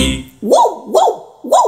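A voice imitates a dog barking, three sharp bark-like calls in an even rhythm, loud and close.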